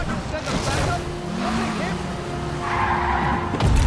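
A car skids during a vehicle chase in a Spider-Man video game, giving tire screeches and engine noise mixed with game effects and a voice talking over the action.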